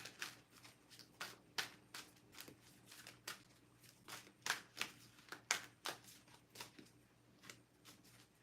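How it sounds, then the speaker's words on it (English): A deck of cards being shuffled repeatedly up close, with a steady run of quick riffling bursts, each a short papery flutter, following one another at an even pace in a quiet room. "I gotta make sure these are shuffled."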